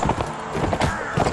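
A horse's hooves pound at a gallop in the medieval video game Mount and Blade Warband, quick rhythmic thuds, close and fairly loud over about a second.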